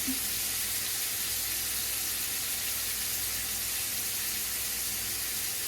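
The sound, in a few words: catfish frying in pan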